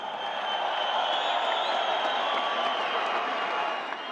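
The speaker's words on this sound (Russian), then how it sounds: "аплодисменты обоим бойцам!" An audience at a title fight applauds both fighters before the judges' verdict, a steady wash of clapping and crowd noise at moderate distance with no voice on top.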